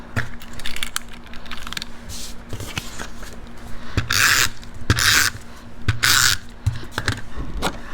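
Paper being burnished for a stamped thank-you card, with close rubbing and scraping strokes, several louder broad swipes near the middle, and scattered light taps and handling noises throughout.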